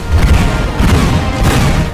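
Ceremonial 21-gun cannon salute at India's 1950 Republic Day flag hoisting: deep, loud booms roll out in quick succession, each trailing into a rumbling echo.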